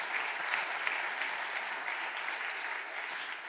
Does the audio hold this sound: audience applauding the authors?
yes